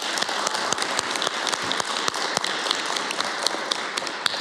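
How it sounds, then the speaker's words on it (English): Applause from an audience at a public health advisory committee meeting, dense steady clapping with sharp individual claps standing out, sustained throughout without talk. "Should we do another round of applause?"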